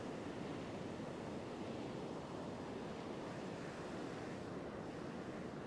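Ocean surf breaks on the beach in big, wild waves arriving from the north, a continuous dense roar of crashing water mixed with wind rumble on the microphone.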